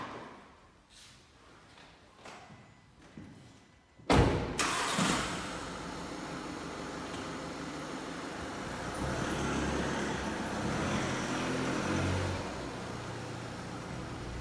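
An Audi Q2 30 TDI with a 1.6 diesel engine starts abruptly after a few quiet seconds, then settles into steady running and driving noise on the road, growing slightly louder, with no talk.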